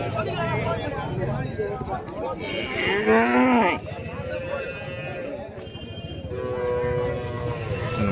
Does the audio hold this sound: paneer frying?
no